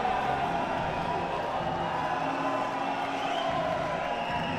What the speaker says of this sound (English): You can hear the crowd in for Mossinga tonight.